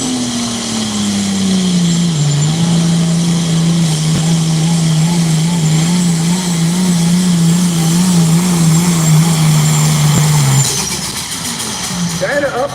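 Pulling tractor at a tractor pull championship night in Rockwell, Iowa, its engine holding a loud, steady roar with slight up-and-down wavering for about ten seconds before cutting off abruptly, leaving quieter ambient noise.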